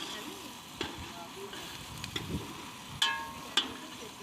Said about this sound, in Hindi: फ़िलहाल ये गोश्त पकेगा थोड़ा सा